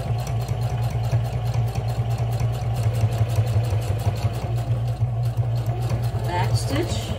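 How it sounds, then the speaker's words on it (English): A sewing machine runs continuously, loud and close, back stitching and then top stitching a fabric bag in a steady, rapid needle rhythm. "we are going to sew, back stitch, and then we're going to continue to top stitch."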